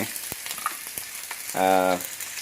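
Garlic, ginger, onion and chili frying in oil, a soft sizzle with a few sharp clinks and taps from utensils, and a brief tonal beep partway through.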